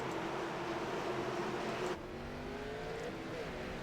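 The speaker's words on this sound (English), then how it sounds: "You hear him shifting that car." A K&N series stock race car engine roars at high revs at Richmond, then drops abruptly as the gear shifts and climbs again, loud and close.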